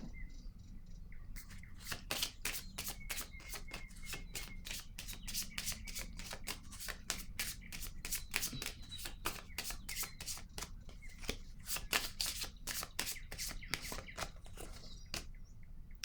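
Tarot cards being shuffled and drawn, a long run of rapid, crisp riffling flicks close up, with brief pauses and faint background sounds.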